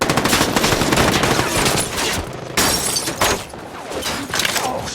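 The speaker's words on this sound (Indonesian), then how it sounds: "memulai pertempuran dengan berondokan tembakan yang menembus mobil-mobil di belakang" A dense, sustained burst of rapid automatic gunfire, loud and close, with rattling impacts and breaking sounds running throughout.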